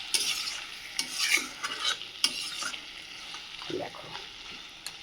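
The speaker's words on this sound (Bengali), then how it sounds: "আর লোহার কড়াইতে রান্না করছি" Goat meat with shanks fries and is stirred in an iron wok, with a steady close sizzle broken by repeated scraping stirs throughout.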